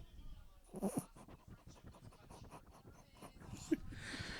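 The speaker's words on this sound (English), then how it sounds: "That's our dog Mouse." A pet dog pants softly at close range in a quiet indoor room, with steady breathy puffs and a faint whimper or two, low in level.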